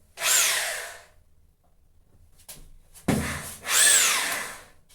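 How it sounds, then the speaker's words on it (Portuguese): A power drill whines in two bursts, grinding into ceramic tile, with a short pause of faint handling noise between them; close and loud. "para poder furar a parte da cerâmica"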